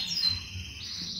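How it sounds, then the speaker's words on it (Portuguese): A pet lovebird (Agapornis) at a home in Fortaleza, Ceará, Brazil gives a few thin, high chirps, close by and moderately soft, with no talking over them. "Observe, senhoras e senhores, o agaporne, que é um passarinho."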